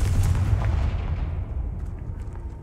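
A Confringo fire spell in Hogwarts Legacy erupts as a heavy, close blast, with a deep rumbling boom that tails off over a couple of seconds.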